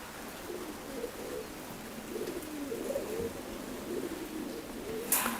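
Racing pigeon held in the hand giving soft, repeated low coos, faint and close amid quiet background hiss.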